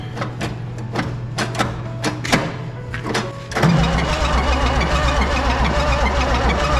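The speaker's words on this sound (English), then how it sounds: "try crank it now and see if we can get" An Oliver Super 88 tractor engine, sitting unused for 20 years, being cranked: repeated starter clatter for a few seconds, then a louder, steadier mechanical churning takes over and continues to the end.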